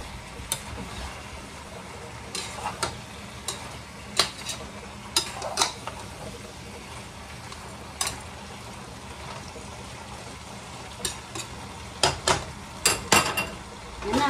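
A spoon or ladle stirs pinakbet vegetable stew in a metal cooking pot, giving scattered, irregular clinks and scrapes against soft kitchen background noise.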